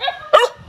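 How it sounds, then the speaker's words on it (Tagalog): A dog lets out one sharp, close bark, brief and loud, with only faint background noise before and after. "Nilapitan ako ng aso. Hindi ako nakilala ng aso."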